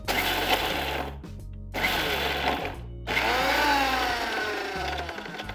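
Electric blender grinding galangal, garlic cloves, lemongrass and fennel seeds into a satay paste, a loud steady motor whir in three bursts separated by short pauses, with no talking.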